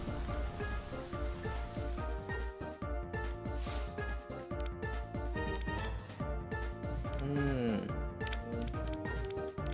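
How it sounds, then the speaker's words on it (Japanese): A sudden heavy downpour in the game Coromon, a steady hiss of rain under busy game music and effects throughout. "ゲリラ豪雨。"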